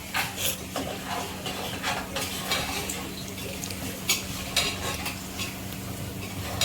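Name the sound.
frying cashews with onions in a pan for pulao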